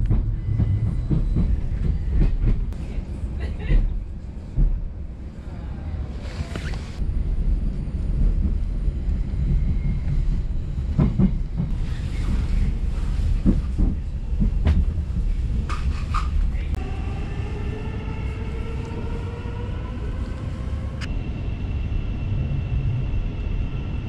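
A UK passenger train leaving London Bridge for Hitchin rumbles steadily from onboard with rhythmic clatter and passing noise, then a rising whine as it gathers speed, no talk heard.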